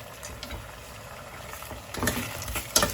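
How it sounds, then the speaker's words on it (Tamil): Steady oily sizzling with soft stirring scrapes, the crackle swelling louder in bursts toward the end, no voices. "நல்லா இந்த எண்ணெயிலே வந்து வதங்கட்டும்"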